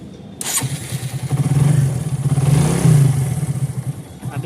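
A motorcycle engine fresh from a timing chain tensioner repair cranks and catches. It then settles into a loud, close, steady idle with a rhythmic thumping pulse.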